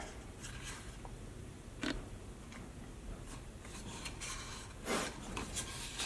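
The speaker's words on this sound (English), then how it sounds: "I filed down these screws on the back side" Metal file rasping across screw ends protruding from the back of bezels on a Goose Gear plate system for a Jeep JKU, heard as a few scattered short rubbing strokes, moderately close, with quiet pauses between them and no talk.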